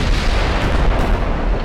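Heavy battleship gunfire and shell hits in the naval combat game Ultimate Admiral: Dreadnoughts, a dense continuous rumble of booming low-end blasts running steadily loud throughout with no talk.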